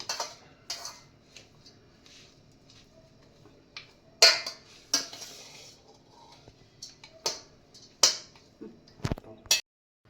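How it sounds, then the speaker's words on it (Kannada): A spoon scraping and clinking in a pan while ginger lemon rice is mixed: sparse, sharp metallic taps and scrapes at an irregular pace, fairly close, with quiet gaps between strokes. "ಚೆನ್ನಾಗಿ ಮಿಕ್ಸ್ ಮಾಡಿ, ಈ ರೀತಿ ಫುಲ್ಲು ಮಿಕ್ಸ್ ಮಾಡಿ"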